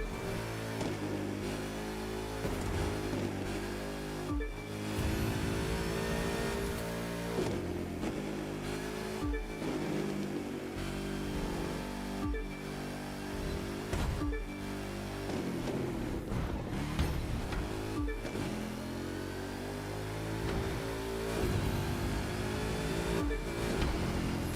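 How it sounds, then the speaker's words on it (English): A car in the video game The Crew 2 revs and shifts through gears over and over, its engine note climbing and dropping with a supercharger whine on top. The sound stays loud and continuous with no talk. "Ooh, listen to that supercharger whine."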